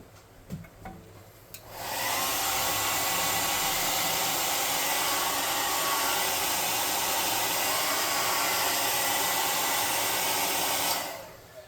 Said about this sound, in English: I'm going to hit this with the air gun real quick.